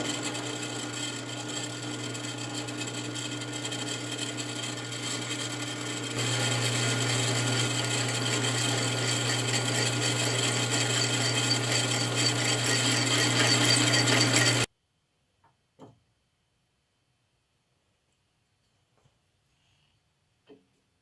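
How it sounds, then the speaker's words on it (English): A center drill cutting on a Rockwell drilling machine in a workshop, a steady loud mechanical whir with a hum that steps up partway through, running continuously for about fifteen seconds before cutting off into near silence with a few faint knocks. "run the center drill down in here, and got all my different drill sizes ready to go"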